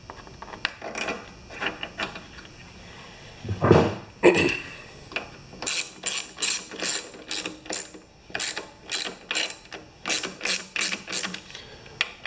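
Small screw being driven into a Poulan Pro chainsaw carburetor, giving a run of quick, close ratcheting clicks in regular bursts with a brief louder handling clatter partway through, no talking.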